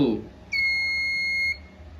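A buzzer in a student-built microcontroller circuit with an LED output gives one steady electronic beep lasting about a second, loud and close, with a bright tonal pitch and stacked overtones over a faint room background.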